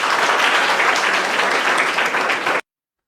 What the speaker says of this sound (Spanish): Les pido un fuerte aplauso para Mariana del Carmen Ramírez Duarte.